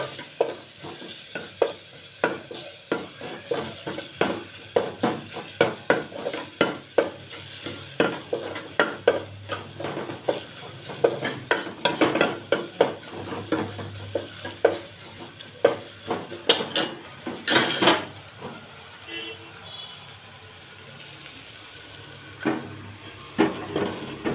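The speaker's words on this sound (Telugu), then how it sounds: "మిరియాల పౌడర్ పెప్పర్ పౌడర్ వేసేసి బాగా కలపాలి" Pepper powder stirred into a rasam of alasanda (black-eyed peas) in a pot, with rapid repeated spoon scrapes and clinks against the metal over a faint sizzle, close and continuous before easing off near the end.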